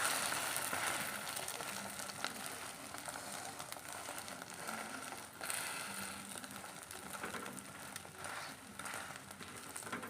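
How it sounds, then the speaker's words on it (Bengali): An egg fries in a pan with a faint, continuous sizzling hiss that holds steady from start to finish, with no talking over it. "এখন এই যে ডিম ভাজা হচ্ছে"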